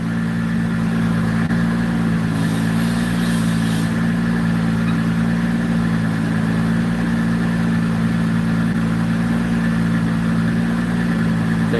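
A turbocharged car engine runs steadily on a dyno, a loud continuous drone with a low idle-like rumble and a brief higher whine early on, no voices.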